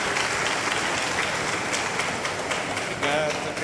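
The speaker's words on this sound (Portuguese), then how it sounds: "Pode aplaudir." Audience at a health caravan presentation about Malawi breaking into sustained applause, a thick, steady roar of clapping with a faint voice briefly under it near the end.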